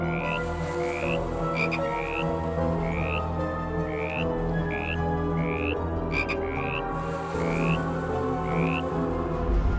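A toad calls again and again in a steady series of short, rising croaks, evenly spaced over a continuous outdoor hum. Nearby, a few brief clicking bursts join in.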